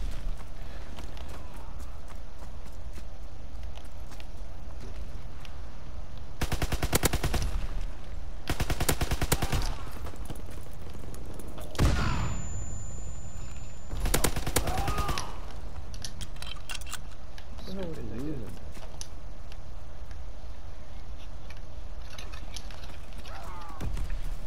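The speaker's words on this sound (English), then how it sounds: "I didn't even know where he was shooting me from." Gunfire rings out during a Call of Duty WWII free-for-all match, with sharp bursts of automatic shots in a few short clusters over a steady game background hum.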